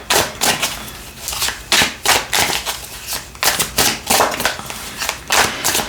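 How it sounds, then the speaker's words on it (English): Tarot cards being shuffled by hand in a series of quick riffling bursts, each a crisp papery flutter separated by brief pauses, close and fairly loud with no talking. "we're gonna give it a good shuffle."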